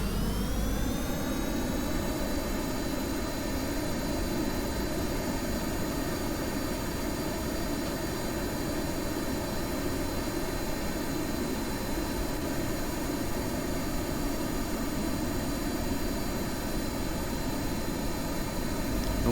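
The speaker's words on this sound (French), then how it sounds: "Donc décollage, poussée verticale, tranquille quoi" Steady, loud jet engine roar from an aircraft in Kerbal Space Program during a vertical takeoff, a continuous whine with a rising tone at the start that then holds even.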